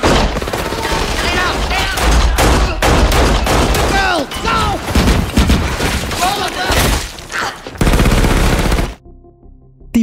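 Heavy gunfire erupts in a zombie film scene: loud, rapid automatic bursts and booming shots crowd together almost nonstop, with voices mixed in, before cutting off abruptly near the end.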